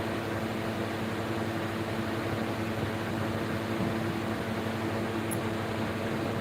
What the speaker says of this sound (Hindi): क्योंकि कूलर बहुत तेज़ चल रहा है